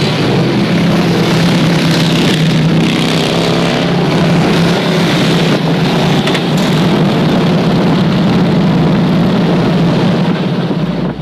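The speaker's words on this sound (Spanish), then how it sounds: "con el sonido de los motores que me dejan de fondo" Harley-Davidson motorcycle engines at a riders' gathering run in the background as a loud, steady low rumble that lasts throughout, with no talking over it.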